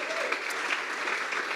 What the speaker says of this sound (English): can I ask you all to give Martin a round of applause?